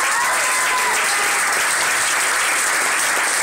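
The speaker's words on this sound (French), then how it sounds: "on l'applaudit très très fort." Loud, dense applause from an evening show audience, a continuous wash of clapping that stays steady and alone throughout the short stretch.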